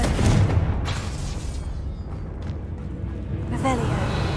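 Confringo spell blasts erupt in Hogwarts Legacy as heavy, booming explosions with rumbling low-end decay, loud and close, with a voice calling out over the din.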